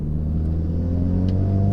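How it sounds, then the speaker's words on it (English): A Renault Megane fitted with a Forge Motorsport turbo inlet adapter, accelerating hard from low revs in third gear, its engine a steady, loud low rumble that climbs gradually throughout, with no voices. "There seems to be a little bit more delay on build up of boost, but I am booting it from really low down in third"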